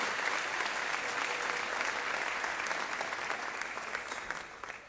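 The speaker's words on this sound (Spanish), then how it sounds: "Un fuerte aplauso, por favor" Church congregation giving a loud round of applause, many hands clapping in a dense, even roar that holds steady and then begins to taper at the end.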